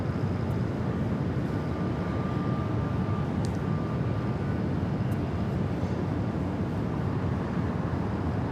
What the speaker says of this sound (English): Delta Airlines flight 427 coming up from Honolulu